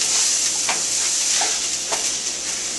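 Ground beef browns in a hot pan with softened onions and garlic, hissing in a steady, close sizzle, with a few faint scrapes of stirring and no talk.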